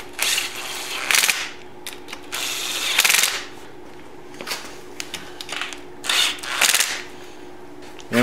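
A ratchet spins bolts down on the front brake of a 1973 Honda CB750 custom build, giving several quick bursts of close, rapid clicking separated by pauses and small metallic handling noises.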